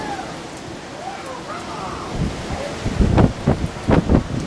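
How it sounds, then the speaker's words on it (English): Gusting wind from the early part of Hurricane Earl buffets the microphone, rising into loud rumbling bursts in the second half, with a voice heard faintly near the start. "It's gusting a little bit."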